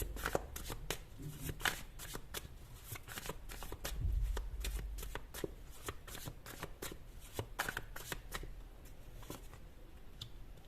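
Tarot cards are shuffled and drawn by hand, with a dense run of quick papery riffles and flicks over about ten seconds, close and fairly quiet, with a brief thump partway through and no talking.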